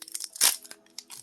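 Pokémon card booster pack being cut open, a close crinkly rustle of foil wrapper with one louder crackling tear in the middle and a few softer crinkles around it.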